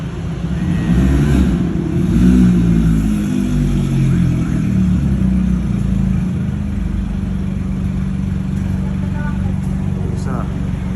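A car engine idles and revs at a Shell station in Mamplasan, a steady mid-pitched drone with one swelling rev early on, while people talk nearby.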